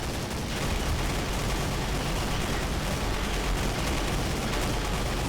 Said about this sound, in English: That was the wrong time to use my machine guns.